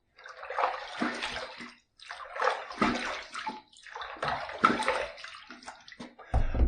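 Water splashing in bursts as a face is rinsed after a wet shave with mug shave soap, several separate splashes with short pauses between, close and fairly loud.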